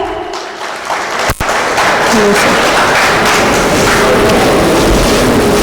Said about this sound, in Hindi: हमारे और एक चीफ गेस्ट के लिए प्लीज़ जोरदार तालियां हो जाए